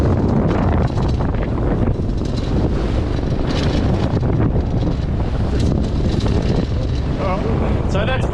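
A roughly 20-knot wind gust hits a 16-foot trailer sailer, loud blustering wind buffeting the microphone with water rushing past the hull, constant throughout, with a voice speaking under it.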